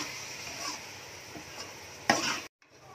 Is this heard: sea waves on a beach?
no